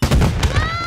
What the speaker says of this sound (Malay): Ada letupan yang kuat tadi.